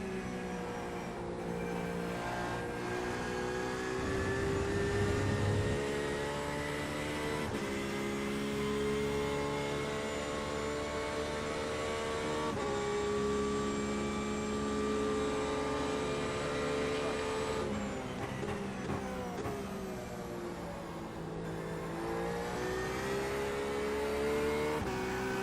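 A race car in iRacing at Circuit de Barcelona-Catalunya holds a steady, loud engine drone with gear-shift pitch changes and rising revs, continuous throughout the clip.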